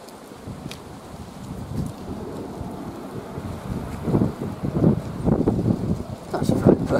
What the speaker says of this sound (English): that's a warm wind